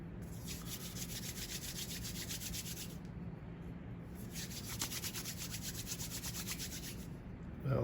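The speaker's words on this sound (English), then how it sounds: "rub your hands back and forward until you got your pieces nice and long" Trofie pasta dough is rolled between the palms, making two soft, close rubbing swishes with a short pause between them.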